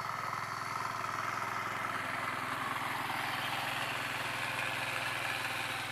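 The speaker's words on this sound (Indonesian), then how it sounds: "ini kultivator mini" A small 10 HP diesel mini cultivator runs steadily on a farm field, its engine making a continuous low, rhythmic chugging drone at a moderate distance, with no voices over it.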